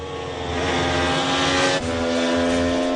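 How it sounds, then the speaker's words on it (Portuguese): A Kawasaki Mach 3 motorcycle with an air-cooled two-stroke three-cylinder engine drones loudly at high revs, a steady buzzing tone that dips briefly before climbing again, with no speech. "Tem um motor 2 tempos refrigerado a ar com 3 cilindros."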